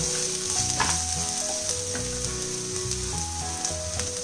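Chopped capsicum sizzles and fries steadily in a hot pan for quinoa, a loud, close, continuous crackle with soft stirring scrapes and background music.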